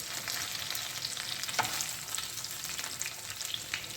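Goan chicken cafreal frying in a pan gives a continuous, moderately loud sizzle with faint crackles and a light clink from stirring, with no talking.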